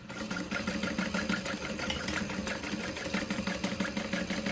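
A sewing machine running steadily at a size 4 stitch length, top stitching through the layers of a fabric tote bag, a continuous close, even mechanical whir with a fast rhythmic needle beat and no pauses.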